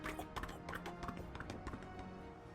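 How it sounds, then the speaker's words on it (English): Rapid hoofbeats of a horse galloping away, a tabletop role-playing game sound effect, with quick clip-clop rhythm and a brief whinny, fairly faint and heard without talk. "as a horse gallops away, but clearly unencumbered"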